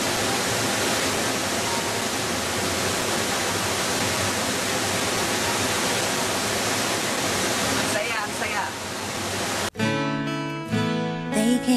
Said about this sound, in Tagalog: Dito pa lang ako sa ilalim ng Tinoyan Falls.